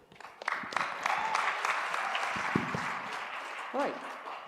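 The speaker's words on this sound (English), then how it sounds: "One more round of applause, please." Audience applause at the grand final of a national schools debating championship, steady clapping from a hall crowd that builds quickly and holds, with brief voices and a short vocal sound near the end.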